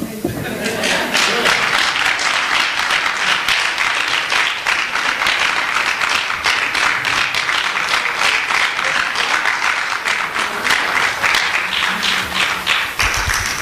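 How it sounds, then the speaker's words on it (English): A church congregation at a Baptist Youth Sunday service gives loud, sustained applause, many hands clapping in a thick, continuous wash for over ten seconds, close and full, ending with a sharp final clap. "Can we give him another round of applause?"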